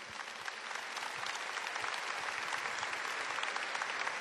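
An audience at a Catholic Holy Week camp applauds, sustained dense clapping from a large crowd, steady and moderately loud for several seconds with no talking over it.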